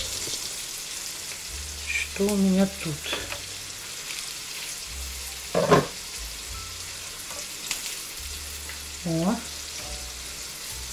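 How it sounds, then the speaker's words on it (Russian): Fish fries in a pan over high heat, a constant loud sizzle and hiss that runs throughout, with someone talking briefly in a few short bursts over it. "Так, пусть жарится. Прямо на большом огне сейчас жарит."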